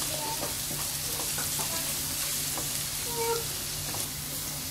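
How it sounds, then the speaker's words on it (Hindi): Garlic and ginger sauté in hot oil in a pan, giving a steady, close sizzle with faint crackles and light stirring throughout, no voices. "अब एक पैन में हम पहले ऑयल हीट कर लेंगे और उसके अंदर गार्लिक और जिंजर ऐड करेंगे"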